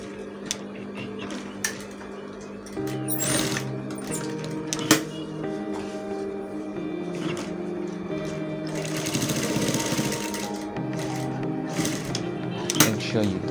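Sewing machine stitching a zip onto chinos trousers, running in steady bursts with pauses, clatters and handling knocks between runs, fairly close.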